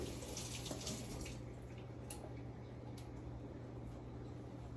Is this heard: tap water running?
yes